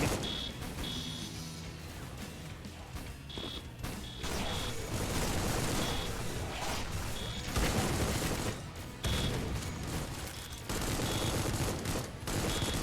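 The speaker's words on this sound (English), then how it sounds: "Like the double machine guns shooting so fast is kind of funny." Twin machine guns in a video game fire in rapid, continuous bursts, a dense loud rattle with short pauses between volleys.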